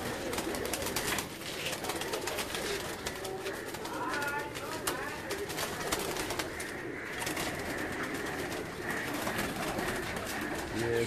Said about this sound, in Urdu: اوپر والے یہ جو پیجز ہیں ان میں بھی وہ کبوتر موجود ہیں